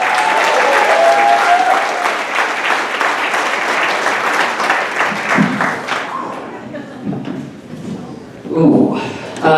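Comedy club audience applauding as a comedian is introduced at Wiseguys, loud sustained clapping from a full room that tapers off after about six seconds, followed by the performer beginning to speak.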